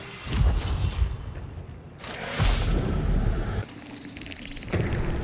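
Bomb explosions in the video game Hunt: Showdown: two heavy booming blasts with deep rumble, separated by quieter stretches, followed by a lower, sustained rumble at the close.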